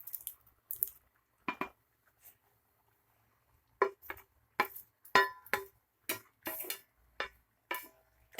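Ghee-coated fried cauliflower, potato and capsicum stirred in a pot, giving a run of scattered soft clinks, scrapes and wet squishes from a spoon, close and fairly quiet with pauses between strokes.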